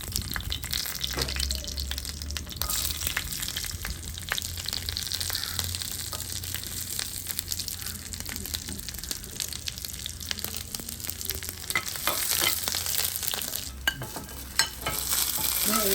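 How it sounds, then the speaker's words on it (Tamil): Ingredients for a coconut sambal to go with home-style dosa fry and sizzle steadily in a pan, with stirring clatter throughout, continuous and fairly close, no talking. "தோசைக்கு சம்பளுக்கு பொரிக்க போகிறேன்."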